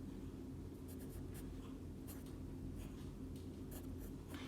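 Pen scratching across a board or paper while working through set notation in a math lesson, a steady run of light, scratchy strokes over a low room hum with no talking.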